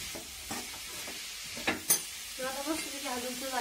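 Dry cauliflower stir-fry gets stirred in a hot pan with a spoon. Scraping clatters and a couple of sharp knocks ride over a soft continuous sizzle, close and moderately quiet.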